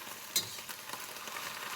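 Garlic frying in a pan gives a steady, soft sizzle with faint crackles and one brief brighter pop near the start, quiet and continuous, with no voices.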